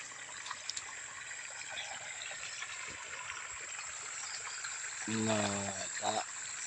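Water trickling and flowing while tomato plants are watered, a quiet steady stream with brief louder gushes near the end.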